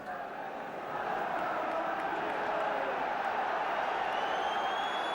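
A 34,000-strong football crowd at White Hart Lane, Tottenham, for Spurs against Sunderland in a relegation match makes a steady distant murmur that swells slightly after the first second, with a commentator speaking over it.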